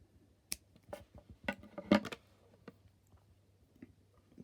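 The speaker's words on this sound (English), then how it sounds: "and you just cut off the thread" Small scissors snip crochet thread, a few faint, close, sharp clicks spread irregularly over several quiet seconds, with no voices.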